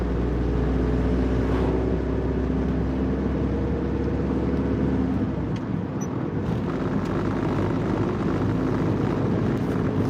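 A car moving along a road makes a steady, loud low rumble of engine and tyre noise with wind buffeting throughout, and there is no talking.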